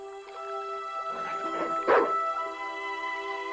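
Dog in the adventure video game Broken Sword 2, set in Marseilles, gives a few short yipping barks and whimpers over a steady droning game background, with one louder yelp near the middle.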